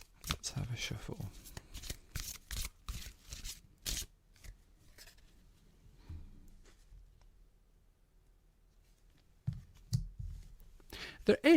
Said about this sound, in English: Let's have a shuffle.